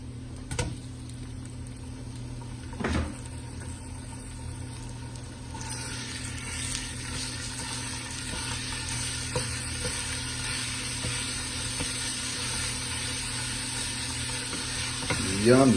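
Ground beef frying in a pan for shrimp, beef and veggie empanada filling, giving a steady close sizzle with occasional scraping stirs and spatula knocks, no talking.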